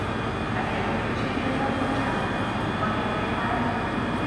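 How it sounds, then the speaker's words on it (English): ScotRail Class 158 diesel unit departing Glasgow Queen Street station on the 1503 service to Anniesland, a steady, loud engine rumble and rail noise that holds constant throughout. "departing out now, I can hear, is the 1503 service to Anniesland. Formed of the 158 unit"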